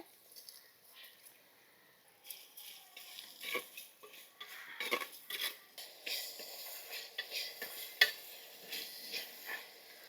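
Onion pieces fry in a pan with salt, a soft sizzle broken by irregular scraping and clinks of a spoon stirring, close but fairly quiet, no talk.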